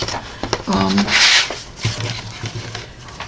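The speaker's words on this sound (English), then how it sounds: "I'm just going to cut a strip over here kind of off camera" A paper trimmer slices a strip of cardstock off to the side in one brief rasping swipe, preceded by rubbing and handling noises nearby.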